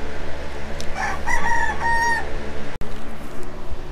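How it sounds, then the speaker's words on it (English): A chicken crows clearly nearby, a drawn-out tonal call of a few rising and falling notes, while soft clucks and farmyard background noise continue around it and a brief sharp knock breaks in near the end. "a chicken coming in to check everything out."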